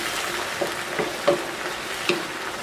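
Tomatoes and wine stirred in a frying pan for chicken cacciatore, a soft continuous sizzle broken by a few spoon scrapes and taps against the pan.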